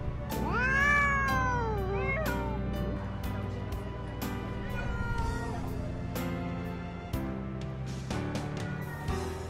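Cats meow loudly at a crowded hoarding site in Wyoming, several voices rising and overlapping in long wavering cries near the start, then a dense, continuous din of mewing and background clatter throughout.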